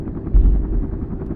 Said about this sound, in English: a US soldier stranded after his helicopter gets shot down by an RPG